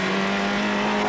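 Peugeot 205 rally car at speed on a stage of the 1992 Lurgan Park Rally, its engine holding a loud steady drone close by with no voices.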